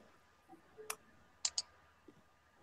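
A computer mouse clicks a few times in a quiet room: one sharp click, then a quick double click a moment later, crisp and close with little else around.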